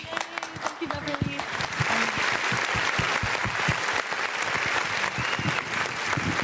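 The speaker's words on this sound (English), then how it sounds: "can we get one more round of applause for Vice Mayor Chantel Walker for presenting" An audience at an annual community unity dinner applauds, with steady crowd clapping continuing throughout while a voice speaks over the opening moments.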